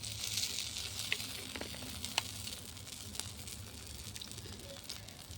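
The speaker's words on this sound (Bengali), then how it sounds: "ওই বেগুন ভাজার তেলে অল্প পরিমাণে তেল দেবো।" Oil sizzling in a pan over a clay stove, a steady close hiss with a few small pops, used to fry brinjal before spices go in.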